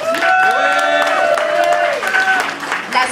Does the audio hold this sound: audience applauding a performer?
yes